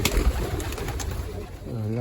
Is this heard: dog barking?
no